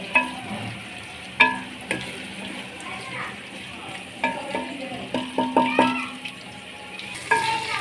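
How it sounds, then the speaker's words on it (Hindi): Potatoes and mixed vegetables fry in a pan with a steady soft sizzle, broken by repeated scraping and clinking of a spoon stirring against the metal, close and clear, with no talk over it. "फ्राई करने से ऐसे आलू का टेस्ट चेंज हो जाता है।"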